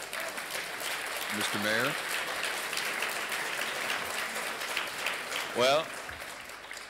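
Audience applause at a human solidarity forum runs as a steady clatter in the background while someone speaks over it.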